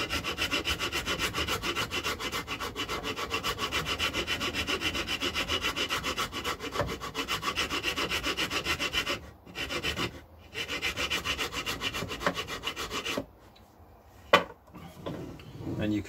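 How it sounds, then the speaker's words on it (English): Coarse file rasping across wood end grain on a Les Paul-style guitar body, a continuous scratchy rubbing in steady strokes with a few short pauses and a knock near the end. "I do use the coarse side of the file because it seems to cut better on the end grain, and just keep going over it"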